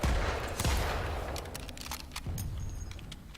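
Pistol fire in the Planetside 2 video game, NS weapons loadout: a few sharp shots ring out over continuous battle noise, with one strong report near the start and lighter cracks following.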